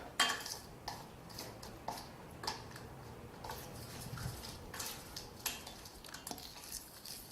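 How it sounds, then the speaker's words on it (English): Chapati dough of flour and water is stirred in a bowl, giving soft repeated clicks and scrapes of a utensil at an uneven rhythm, close and fairly quiet, with no talking. "So keep stirring the dough"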